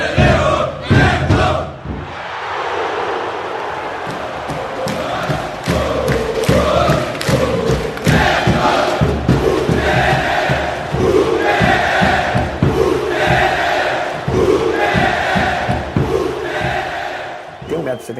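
Flamengo supporters chant in a packed football stadium, a loud rhythmic mass of voices with clapping-like thumps, swelling and repeating in waves throughout.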